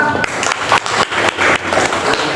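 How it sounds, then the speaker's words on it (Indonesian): Students clap together in a classroom, a loud close round of applause in fast rhythmic bursts that rise and dip for a couple of seconds. "Tepuk tangan dulu ya."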